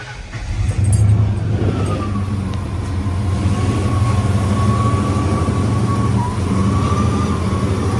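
A Ford 5.0 engine cranks, catches and settles into a loud, steady idle close by, with a rough, uneven running note from a misfire and no talking.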